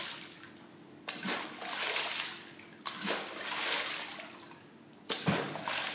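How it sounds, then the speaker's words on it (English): Water drumming: a slightly cupped hand pushes down on a water surface three times, each stroke giving a sharp splash that swells into a sloshing rush and then fades before the next. "hand very slightly cupped, and you're touching the water so that it doesn't slap"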